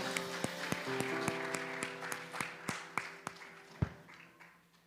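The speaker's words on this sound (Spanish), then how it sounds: "Dale un fuerte aplauso al Señor." A church congregation claps together in rhythmic unison, sharp steady beats over a sustained tonal worship-music backdrop, a little louder and more spaced toward the end.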